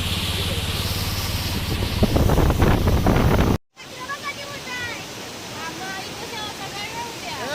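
A waterfall beside a highway among hills roars as a dense, loud rush in the first half, then after a brief cut continues more softly under wind buffeting and some voices.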